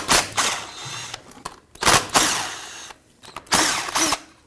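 A power tool backs 10mm bolts out of the transfer case motor on a Ford Ranger in repeated loud, close bursts of whirring and rattling, separated by short pauses.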